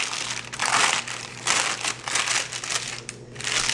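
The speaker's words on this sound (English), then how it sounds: "I'm just going to peel away the paper" Parchment paper peels away from freshly baked, cooled vegan cinnamon raisin bread rolls, giving close, bursty crinkling and crackling in several uneven pulls.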